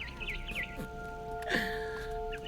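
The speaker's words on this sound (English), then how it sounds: "Then I heard chirping outside my window. It was a barn swallow going back to her nest." A barn swallow in the video game What Remains of Edith Finch gives quick, high, wavering chirps in a short burst, then a brief repeat, over a quiet ambient game soundscape.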